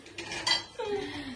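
Steel dishes and vessels clinking and clattering as they are set out for a meal, a couple of sharp metallic knocks followed by a ringing scrape, close by.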